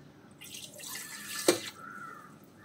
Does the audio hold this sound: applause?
no